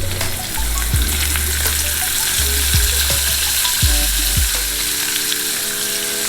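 Thin-sliced pancetta frying in a pan for spaghetti, a loud, close, steady sizzle with several scraping stirs as the meat is moved around, no voices.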